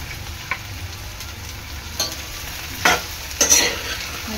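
A capsicum and onion mixture cooking in a pan gives off a steady hiss, broken by a few short stirring scrapes, the louder ones near the end.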